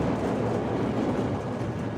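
Chicago CTA Green Line train running near Cermak and McCormick Place, a steady loud rumble of rolling wheels and car noise, continuous and close throughout.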